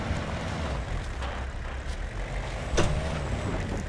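A car driven through the hunting game Way of the Hunter gives a steady low engine rumble and road noise, close and continuous, with a brief louder bump near the end.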